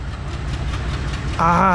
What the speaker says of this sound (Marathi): इंजिनचा हा आवाज बऱ्याच दिवसापासून ऐकला आहे मी